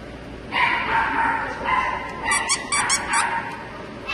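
A dog lets out several high, squeaky yips and whimpers close by in a pet store, over a background of murmuring voices.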